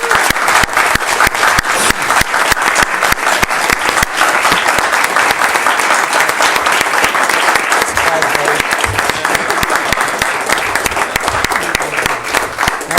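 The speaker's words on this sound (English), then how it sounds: "take this opportunity to applaud Joe for his tremendous career" An audience at a city council meeting applauds Joe Pannoni, loud sustained clapping from many hands for about thirteen seconds, with some voices mixed into the crowd.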